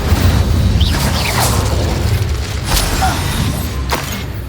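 The Incendio fire spell cast in Hogwarts Legacy: a loud, booming burst of flame with rumbling low end and a few sharp crackling pops scattered over several seconds, without talk.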